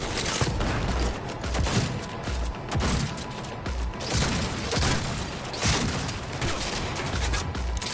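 Sustained bursts of gunfire from the video game Cyberpunk 2077, with repeated volleys and booms filling the whole stretch at a steady, loud level and no speech over it.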